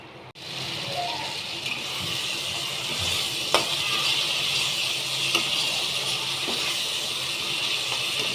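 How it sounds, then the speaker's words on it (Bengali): Spice masala with onion and tomato sizzles and hisses steadily in a pan while frying, with a few sharp clicks and clatters of stirring, no talk. "এটা একটু ভাজা ভাজা হবে।"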